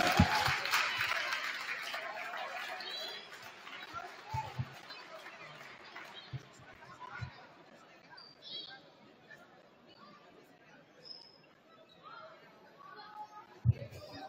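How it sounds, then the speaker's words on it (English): Gym crowd at a men's college basketball senior night applauds a senior player, a brief burst of clapping that fades into distant chatter, scattered footsteps and occasional ball or floor thuds. "Let's get a round of applause for Mikey Brown."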